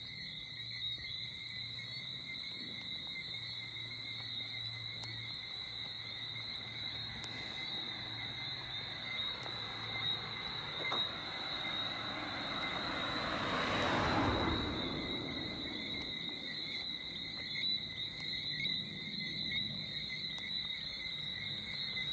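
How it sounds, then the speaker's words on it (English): Crickets chirp at night along a roadside walk in St. George, Barbados, a steady high trill throughout while a passing aircraft or vehicle swells and fades in the middle. "You hear the crickets chirping?"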